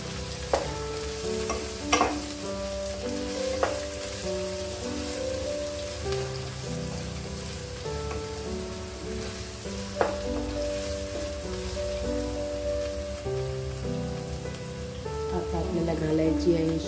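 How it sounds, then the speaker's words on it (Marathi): Finely chopped large tomato sautéing in a pan for a bread breakfast dish, a continuous sizzle with occasional spoon scrapes and taps, while music plays underneath. "एक मोठा टोमॅटो घेतलेला आहे, बारीक चॉप केलेला आहे। छान परतून घेऊया"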